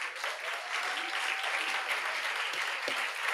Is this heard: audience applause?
yes